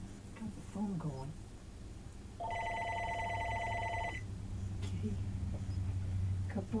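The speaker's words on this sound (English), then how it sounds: "Now we got the phone going." A telephone rings indoors with one steady electronic ring burst, close and moderately loud, while a person talks to a playing cat around it.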